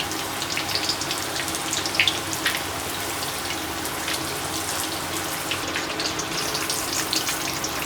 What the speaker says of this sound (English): we're just going to deep fry each piece of pork chop until it's golden crispy